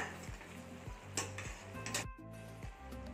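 Pieces of bhuna mutton, a dry, reduced-gravy mutton preparation, are stirred in a pan, with a soft sizzle and a couple of utensil scrapes beneath steady, tonal background music.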